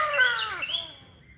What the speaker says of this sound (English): Well, the birds are out here today